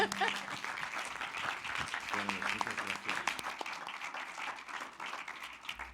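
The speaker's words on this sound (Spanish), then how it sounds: "Pues otro aplauso." An audience at a spoken cinema screening event gives a fairly quiet, steady round of applause with some crowd murmur and a voice talking partway through.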